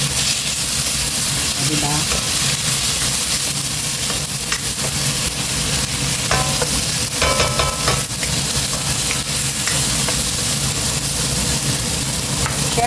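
Two galunggong fish fry in a hot pan with a constant loud sizzle and hiss, broken now and then by clinks and scrapes of a utensil, while a voice speaks briefly.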